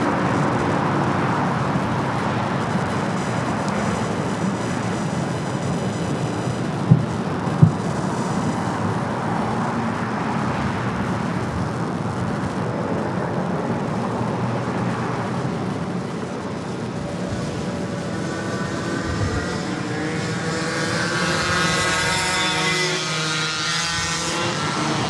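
An airliner arriving from Sydney lands at LAX, its jet roar a continuous distant rumble that holds steady for a long stretch and swells slightly toward the end.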